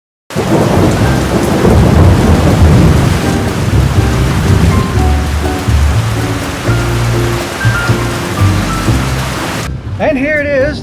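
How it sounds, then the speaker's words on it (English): A heavy thunderstorm with rain, a dense steady downpour hiss beneath deep rolling rumbles of thunder, loud and close, with a brief different sound at the very end. "it is obviously a rainy weekend out there"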